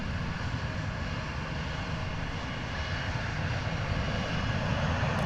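An airliner touches down at DFW Airport after a go-around, heard as a distant, steady jet rumble and roar. It holds fairly constant and grows slightly toward the end, with no voices.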